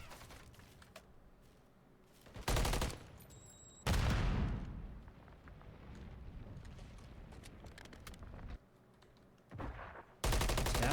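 Gunfire in a competitive tactical shooter video game match, with rapid automatic bursts and scattered single shots breaking through a quieter background, some bursts loud and close and others more distant.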